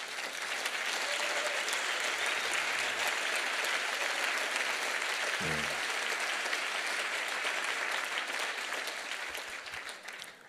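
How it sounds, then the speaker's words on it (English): An audience at a 50th anniversary celebration claps steadily and loudly for about ten seconds, a dense sustained applause that thins slightly near the end. "So give them a round of applause."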